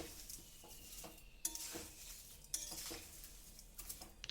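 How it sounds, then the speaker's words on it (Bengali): Sugar and water being stirred together in a pan to make syrup for a sweet-sour raw mango pickle, with soft scraping and occasional sharp clinks of a spoon against the vessel. "এইভাবে নাড়াচাড়া করতে করতে চিনিটা গলে রসে পরিণত হয়ে যাবে"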